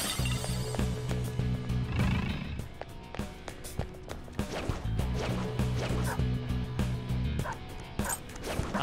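A dog in the video game Persona 5 Royal barks and whimpers in short, repeated yelps over pulsing game music, with bursts of combat effects between them.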